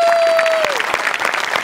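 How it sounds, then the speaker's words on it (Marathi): Audience applause fills a Marathi comedy show, loud dense clapping from a crowd that carries steadily throughout, with a brief electronic tone sliding down near the start. "एकदा जोरदार टाळ्या होऊन जाऊ दे."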